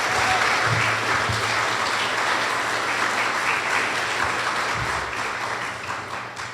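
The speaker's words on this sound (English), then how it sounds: "And let's give our contestants another round of applause." Sustained audience applause for contestants at a youth oratorical contest, a steady, fairly loud wall of clapping across the room that slowly tapers toward the end.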